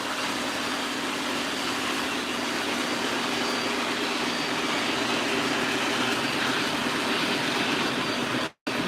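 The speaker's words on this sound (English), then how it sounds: "we're going to bring the Chessie train to a stop now" An O gauge model train runs close by with a steady, continuous mechanical rumble and whir, then cuts off abruptly near the end.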